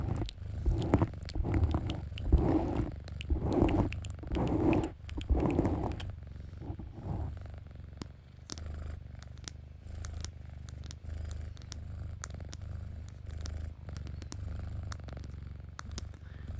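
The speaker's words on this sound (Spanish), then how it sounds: "Estás ronroneando." Steady cat purring in an ASMR roleplay, close and soft, with rhythmic rumbling pulses for the first few seconds before settling into a low continuous purr.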